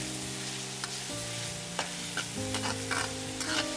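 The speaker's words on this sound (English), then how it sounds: "Sauté until the onions are translucent." Onions and garlic sauté in oil in a pan with a soft, steady sizzle, while a spoon scrapes and stirs in several short bursts.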